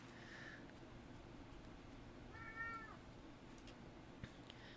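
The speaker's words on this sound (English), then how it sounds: "the cat meowing in the background that's driving me out of my mind" A domestic cat meows once in the background, faint and distant against a steady low hum of room noise, with no talking.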